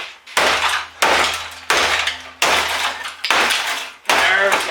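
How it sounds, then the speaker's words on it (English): A claw hammer strikes repeatedly while a computer is taken apart, giving six loud, close bangs about every 0.7 seconds with rattling metal and plastic ringing after each blow. "And for a claw hammer."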